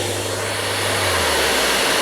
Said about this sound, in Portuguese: Aqui eu escolho a intensidade do aspirador.